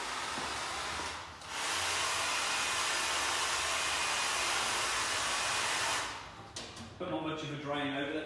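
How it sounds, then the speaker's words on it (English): Hairdryer blowing steadily on thin paint freshly wiped onto a primed surface, a loud continuous rushing hiss that dips briefly, then cuts off near the end before soft handling sounds. "Then we're going to dry it with the hairdryer."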